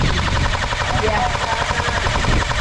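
Rapid airsoft gunfire, return fire in an outdoor game, a dense, loud chatter of shots continuing without pause.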